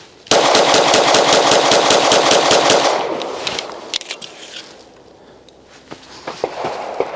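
Rapid gunfire at rubber TCRT silhouette targets starts with a fast burst of evenly spaced close shots for about three seconds. Scattered single shots and impacts follow over a quieter outdoor background.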